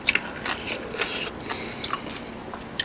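Close, crunchy chewing of kimchi during a Korean mukbang of braised LA galbi, a few wet bites and crackly crunches spread across a short stretch with no talking.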